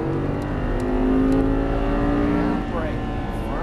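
An Audi R8 V10 accelerates out of a turn on a race track in Las Vegas, its engine note rising steadily in pitch as it pulls hard, loud and close, with a voice over it.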